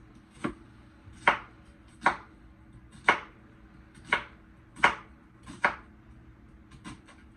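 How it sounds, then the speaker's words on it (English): A short knife chops an onion into small pieces on a cutting board, about eight crisp, evenly spaced strikes, close and clear, with no talking. "we're going to cut that onion up into small little pieces"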